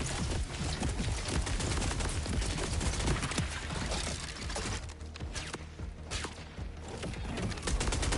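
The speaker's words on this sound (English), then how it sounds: "What are you doing shooting at me?" Dense, rapid gunfire from the looter shooter game Borderlands 4, a continuous loud fusillade of overlapping shots and impacts that barely lets up across the whole stretch.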